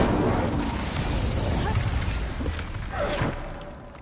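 An Incendio fire spell is cast in Hogwarts Legacy, a burst of roaring, crackling noise that stays fairly loud, then swells briefly near the end and fades.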